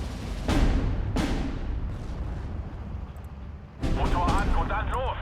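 Artillery fire in the Steel Division II video game campaign: a few loud, heavy booms with rumbling tails, separated by gaps, then a burst of crackling blasts.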